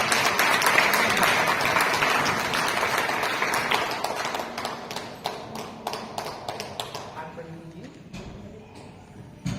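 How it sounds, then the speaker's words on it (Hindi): A crowd applauds loudly, the clapping thinning out into scattered individual claps before fading. "धन्यवाद दीजिए प्रभु को, तालियां बजाकर।"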